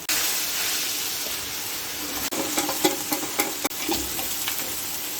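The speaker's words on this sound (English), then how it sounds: "I can already hear the beef sizzling as opposed to boiling" Steady crackling sizzle of beef frying in a hot pan with onions for a beef madras, with occasional sharper pops and spits rising above the continuous hiss.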